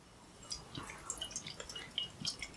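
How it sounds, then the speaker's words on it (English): Hazy Brewdog Cloudwater NEIPA beer poured into a glass, a quiet close trickle of liquid with small splashes, drips and fizzing pops, no talk. "we're going to pour the Brewdog first, Brewdog Cloudwater, into a Brewdog glass"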